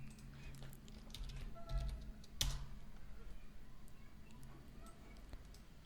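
Password being typed on a computer keyboard, a quick run of light plastic key clicks at close range, with one sharper tap standing out midway and soft low room noise underneath.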